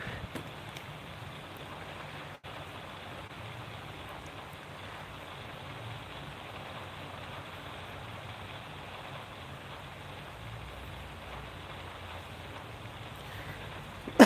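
Rain in Harvest Moon: Friends of Mineral Town, a steady, even hiss of falling rain that runs unbroken, with no talk.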